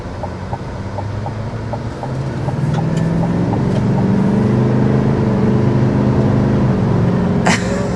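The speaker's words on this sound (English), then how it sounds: "But first, we will start with a hard acceleration." A 2024 GMC Sierra 2500 HD AT4 pickup accelerates hard, heard from inside the cab as a loud, rising engine drone that builds and holds with a steady rumble.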